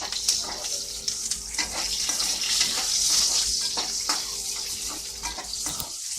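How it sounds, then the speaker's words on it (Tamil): Curry leaves and onions frying in a pan for pepper kuzhambu, giving a steady, close, crackling sizzle with occasional stirring scrapes and no talk. "கருவேப்பிலை, வெங்காயம் போட்டுக்கிறேன்."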